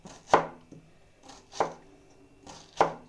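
A knife cuts an onion into quarters on a board: three sharp, close chops spaced evenly about a second and a quarter apart, with quiet between them and no talking.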